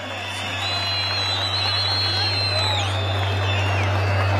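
A large outdoor crowd at a Newroz festival in Adana keeps up a steady wash of applause and cheering, with high whistles and shouts rising over a constant low hum throughout.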